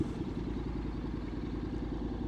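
Honda X-ADV 750 motorcycle fitted with a LeoVince LV Pro exhaust, its engine running steadily with a deep, rumbling exhaust note close by, no talk.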